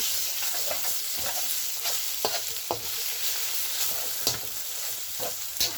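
Stir-frying food with soy sauce in a pan, cooked long until dry, to go with rice porridge: a steady sizzle runs throughout, broken by scattered scraping stirs of the spatula, fairly close and moderately loud with no talking.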